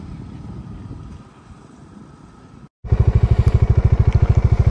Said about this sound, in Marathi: आणि आपली बाईक